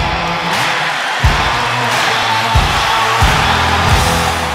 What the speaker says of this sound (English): Husky Stadium gets loud